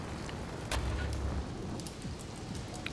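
Rain in the video game GTA III, a steady hiss of falling water with faint engine rumble and a few brief sharp ticks.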